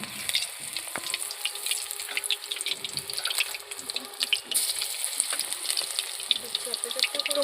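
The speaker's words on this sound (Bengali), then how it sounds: "আমি এই পকোড়াগুলো দিয়ে দেবো ভাজতে।" Potato and egg pakoras frying in hot oil, a dense continuous crackling sizzle close up, with occasional stirring clinks throughout.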